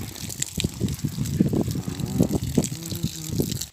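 Water poured from a container onto very dry garden soil while preparing ground for growing shiitake mushrooms, a close, uneven splashing and gurgling stream running for several seconds with faint bubbling near the end.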